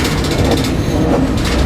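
A freight train pulls out of Mobile, a steady, loud rumble of rolling wheels and rattling cars, continuous and close throughout with no voices.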